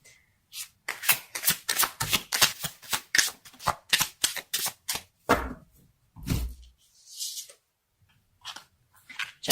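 Tarot cards shuffled by hand in a run of quick crisp riffles and flutters, close and fairly loud, ending with a few softer taps and slides, with no talking over it.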